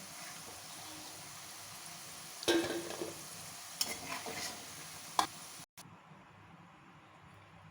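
Cauliflower and potatoes fry in hot oil for a dhaba-style aloo gobi, giving a steady close sizzle with a few louder bursts of stirring, a brief dropout near the end, then quieter frying.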